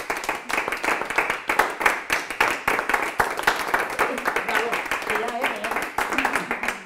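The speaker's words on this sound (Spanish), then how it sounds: "un aplauso por favor" Steady hand clapping from a seminar audience on a university Lego serious-game innovation course, dense and sustained with sharp individual claps throughout, close and fairly loud.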